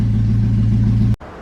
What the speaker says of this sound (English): So I'm gonna let it warm up for a little bit, and then I'm gonna take it out for a little spin